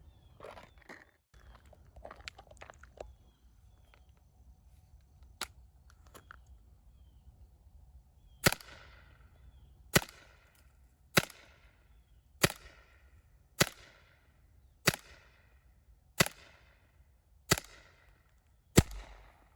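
Mission TPR airgun firing projectiles at about 330 feet per second into a hard pumpkin: eight sharp, loud impact cracks at a steady rhythm roughly every 1.2 seconds, after a few softer handling clicks and rustles.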